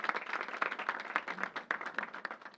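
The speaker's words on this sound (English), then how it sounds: "Let's give the Reverend a big round of applause." Audience at a governor's announcement on youth violence giving a round of applause, fairly faint, even clapping that continues steadily throughout at moderate distance.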